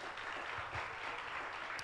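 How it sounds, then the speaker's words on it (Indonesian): A church congregation at a Sungai Yordan worship service in Singkawang applauds steadily, a dense, even wash of clapping that holds for the whole moment. "mana nih tepuk tangannya buat Tuhan?"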